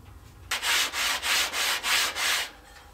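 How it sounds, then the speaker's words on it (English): A sandpaper block rubs briskly back and forth across a wooden eighth-round edge, six rhythmic scratchy strokes close up, then stops. "One of your blocks with sandpaper attached to it will sand that 1/8 round over very, very quickly"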